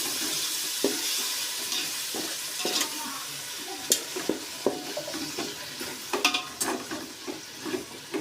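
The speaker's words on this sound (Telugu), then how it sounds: "ఇప్పుడు ఇందులోకి ఒక కప్పు పెరుగుని వేసుకున్నామండి సరే బాగా కలుపుకోవాలి" A cup of yogurt is stirred into egg biryani masala in a hot pan. A close, continuous soft sizzle runs throughout, broken by repeated wet scraping strokes of a spoon against the pan.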